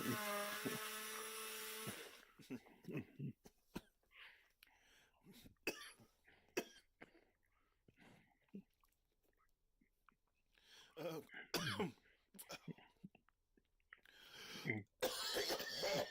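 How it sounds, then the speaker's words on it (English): A man coughs repeatedly in a kitchen while cooking a jalapeño sauce, short sharp bursts scattered across quiet gaps with some throat clearing, close and moderately loud. "I have to cough."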